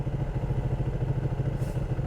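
A Ducati 1299 Panigale with its stock exhaust gives a loud, close, pulsing low engine rumble that throbs steadily throughout.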